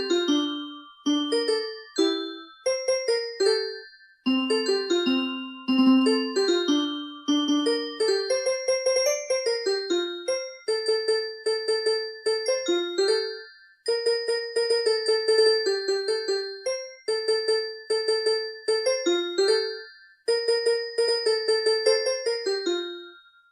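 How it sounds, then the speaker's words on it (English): A toy Christmas tree plays Jingle Bells from a button on its side as a bright, electronic chime melody, steady and close, running on its own with no talk. "There is even a Christmas song, Jingle Bells, that plays if you press a button on the side of the tree."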